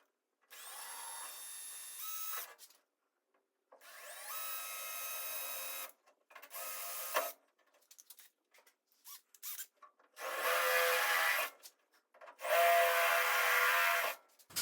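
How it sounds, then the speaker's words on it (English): A power drill runs in several bursts of a few seconds each, whining as it bores holes for door latch hardware, with short pauses and scraping handling noises between. "I'm going to drill these holes on this surface"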